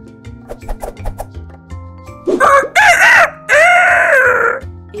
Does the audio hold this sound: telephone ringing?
no